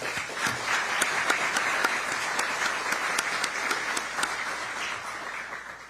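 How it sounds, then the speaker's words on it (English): Sustained audience applause at a mayor's State of the City address in Vancouver, Washington, many hands clapping in a dense, even wash that holds steady and loud throughout. "that deserves a round of applause"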